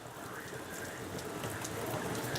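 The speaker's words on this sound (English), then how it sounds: "See the water hitting the garbage cans over there?" Heavy rain spatters onto garbage cans outdoors, a faint, steady wash of dense patter that swells slightly toward the end, with no voices.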